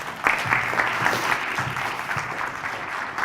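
Audience applause at a conference talk on AI and mixed reality: a dense, steady wash of many hands clapping throughout, moderately loud and close, with no clear voices.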